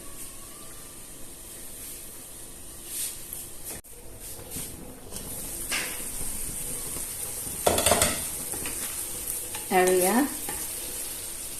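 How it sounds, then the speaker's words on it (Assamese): Masala with a splash of water fries in a pan for a local chicken and black pepper curry with curry leaf paste. A soft, steady sizzle runs throughout, broken by a few scraping stirs, and a voice speaks briefly. "নাম মাত্ৰ পানীও দি দিছো মছলাখিনি লাগি নধৰিবলে দিম 5 মিনিট মানৰ কাৰণে ভাজ খাবলৈ দিম ভালদৰে আৰু মাজে মাজে আমি চেক কৰি লৰাই থাকিম"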